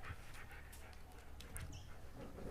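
Dog panting in quick, soft rhythmic breaths, close by and fairly faint, with a few light whimpery sounds mixed in and no speech.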